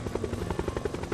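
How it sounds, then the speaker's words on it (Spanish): Helicopter flying overhead in a wild desert, its rotor producing a rapid, regular thumping pulse that stays steady and fairly loud throughout, with no talking. "Helicóptero."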